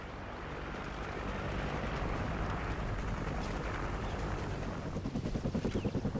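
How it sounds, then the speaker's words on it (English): An MI-24 helicopter arrives in a Ghost Recon video game, a dense, loud roar of rotor and engine that builds into a rhythmic blade thump near the end, mixed with scattered gunfire. "Friendly chopper inbound."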